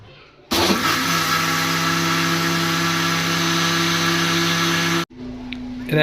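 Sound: mixer grinder running

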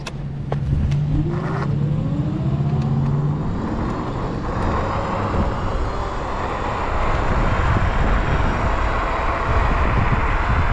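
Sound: Dualtron Victor electric scooter riding at 50 mph

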